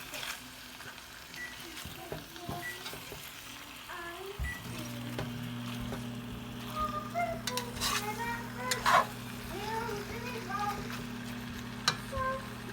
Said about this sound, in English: So now I'm going to add the chicken in there.